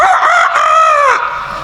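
A man imitates a rooster crowing as if at midnight, one long, loud, close vocal cock-a-doodle-doo with a rising and falling tone that lasts about a second before cutting off.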